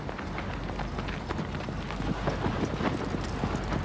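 Horse galloping in Shadow of the Colossus, a steady rapid hoofbeat rhythm running throughout over dense game ambience and music, fairly loud and continuous with no talk.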